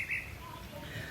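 A small songbird gives a couple of brief, faint chirps early on, then falls quiet against a low background hum; no one speaks.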